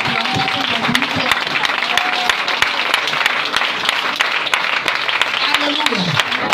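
A church congregation claps and cheers in acclamation of Jesus, sustained loud applause filling the room throughout, with voices calling out over the clapping.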